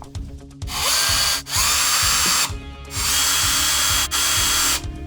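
A power drill drives a few screws into the plastic lid of a homemade bat detector, with three or four loud, sustained whirring bursts separated by brief pauses, close and alone.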